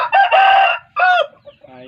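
Pama-breed fighting rooster named Jack Sparrow crowing close by, two loud harsh calls in quick succession followed by a softer trailing cluck.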